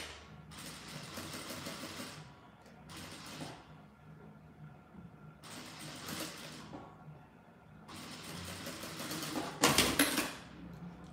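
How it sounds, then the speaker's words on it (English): A sewing machine stitches fabric together for a squeeze pouch, running in several whirring bursts of a few seconds each with short pauses between, close and steady. "So I'm gonna sew that there together."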